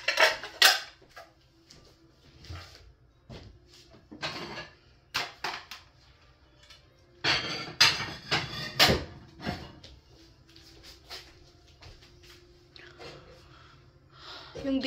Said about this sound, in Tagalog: yung iba mga pinggan, tuyo na siya. Natuyo na, buong magdamag na nakalagay dyan. Kaya ilalagay ko na sa lalagyan.